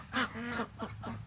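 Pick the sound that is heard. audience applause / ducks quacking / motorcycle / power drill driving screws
ducks quacking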